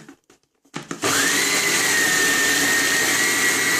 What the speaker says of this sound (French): je vais venir mixer le tout pour avoir une pâte